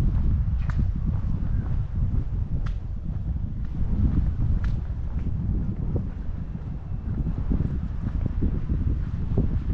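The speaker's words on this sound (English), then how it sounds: "Windy." Steady wind roars across a microphone outdoors on a sunny, chilly day during a walk, forming a constant loud rumble with faint scattered ticks and rustles throughout.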